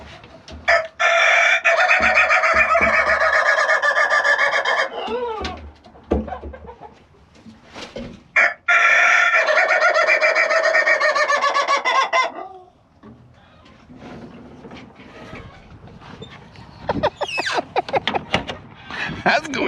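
A rooster crows loudly and close, twice in long drawn-out calls, with clucking and people talking and laughing between and after the crows.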